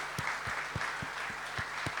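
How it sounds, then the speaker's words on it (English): Dealers at a Tata Motors vehicle launch event applaud steadily, a broad wash of dense clapping that holds even and loud for the full two seconds, with a few sharper claps standing out. "So give all of yourselves a fantastic round of applause."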